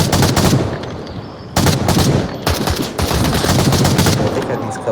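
Rapid bursts of automatic gunfire in the VR shooter Onward, loud and dense, with sustained volleys broken by brief gaps as fire continues almost nonstop.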